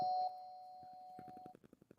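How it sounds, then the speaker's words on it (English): A doorbell chime plays loud and sustained over about a second and a half, a two-tone electronic ding-dong ringing out clearly before fading into quieter rhythmic background tapping and murmur. "Crazy hearing the dang doorbells."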